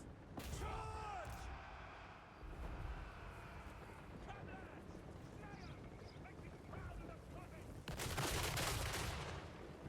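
Troops firing guns in Total War: Warhammer III, scattered shots and volleys crackling through a busy battle din, with a louder burst of fire near the end and a voice talking over it.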